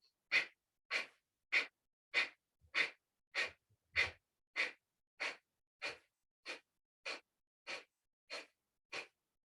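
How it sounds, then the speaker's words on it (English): During a yoga breathing exercise, a person makes about sixteen sharp, forceful exhalations through the nose in an even, quick rhythm. Each puff is close and distinct, separated by short silences, with no talking. "So we inhale freely and exhale, pump."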